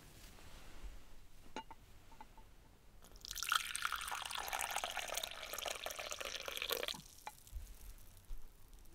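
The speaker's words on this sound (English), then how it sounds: "let me pour it for you." Liquid pours steadily for a few seconds into a cup, a close splashing stream that stops abruptly, with a few small clinks before and after.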